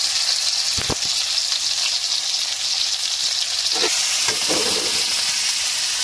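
Onion and green chilies frying in a hot pan for veg momo: a loud, steady sizzle fills the whole stretch, broken by a few clacks of the spoon stirring against the pan.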